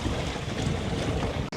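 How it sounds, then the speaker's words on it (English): A sailboat under sail with no engine off Athens in August, heard as a steady wash of wind and water with microphone buffeting, continuous and fairly loud. "Now we're actually sailing, no engine, going in the correct direction for the wind,"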